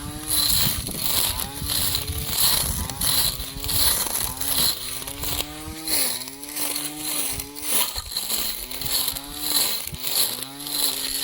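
A small two-stroke mini trimmer fitted with a metal blade, used as a lawnmower on grass, runs with a loud, buzzing engine drone that rises and falls as it revs and cuts.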